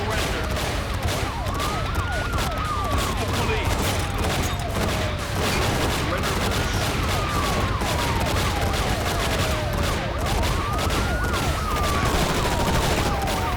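Gunfire in the video game Enter The Matrix, a steady loud fusillade of shots under a wailing police siren that sweeps up and down, the whole scene constant and dense.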